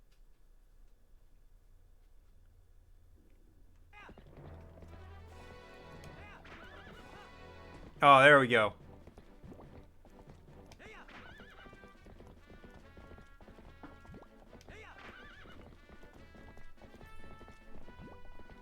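A horse in Zelda: Twilight Princess neighs in one loud, short burst near the middle, with quiet hoof clip-clops and game sounds underneath and a person speaking briefly.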